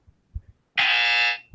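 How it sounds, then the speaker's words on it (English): A harsh electronic buzzer on a sneaker-talk podcast blares for just over half a second, loud and close, after a few soft thumps. "Shut up, buzzer."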